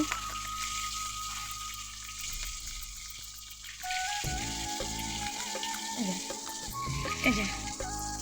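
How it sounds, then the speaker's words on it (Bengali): Fish rubbed with chili powder and mustard paste frying in oil in a home kitchen, giving a steady close sizzle with light spattering that grows busier partway through, with no talking. "এই যে মাছ ভাজা হচ্ছে"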